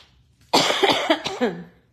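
A single close, loud cough burst with a short rasping tail, heard alone after a quiet moment.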